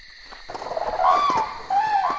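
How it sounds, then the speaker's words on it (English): A lone bird in a horror game farmhouse gives a couple of clear, warbling whistled calls, close and alone over a faint background hum. "Stupid bird."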